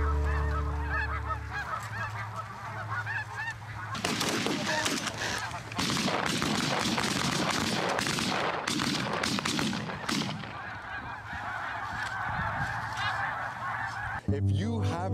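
A flock of snow geese honks in dense, overlapping calls during a spring hunt, loud and close through the middle of the clip with bursts that may be gunfire, quieter at the start and end.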